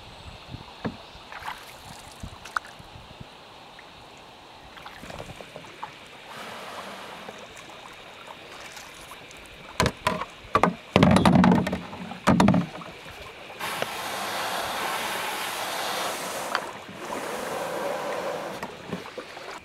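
Canoe paddling on an Australian bush river: scattered wooden knocks and strokes, a few splashy surges of water, then a sustained rushing hiss, over quiet outdoor ambience with no talk.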